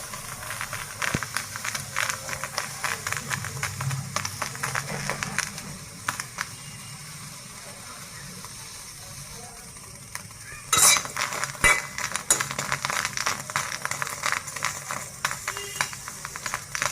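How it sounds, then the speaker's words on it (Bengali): Chilies are dry-fried without oil in a pan and stirred slowly, giving a faint hiss under frequent scraping and clinking of a utensil against metal, close by, with a quieter stretch in the middle before the stirring picks up again. "এইভাবে মরিচটা ভেজে নিতে হবে আস্তে আস্তে করে।"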